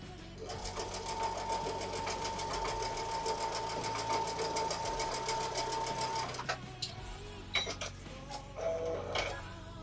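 A home sewing machine stitches quilt rows together in a steady, fast mechanical run of close-up needle ticks for about six seconds, then stops, followed by a few handling clicks and short bursts.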